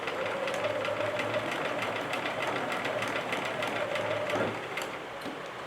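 Sewing machine stitching small fabric flowers stuffed with polyfill, a steady close mechanical whir with rapid needle knocking that runs continuously before slowing and easing off near the end.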